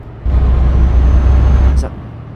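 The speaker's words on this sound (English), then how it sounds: "Tell me if the truck's too loud, please." A truck engine rumbles steadily while driving, a loud low drone that swells after a quiet start, holds, then eases off near the end with a brief air-brake-like hiss.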